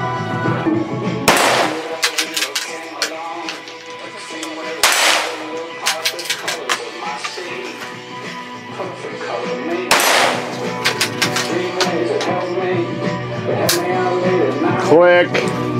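Rifle gunshots fired at a target at a winter camp: three loud, sharp cracks spaced several seconds apart, with quieter clatter and people talking between them.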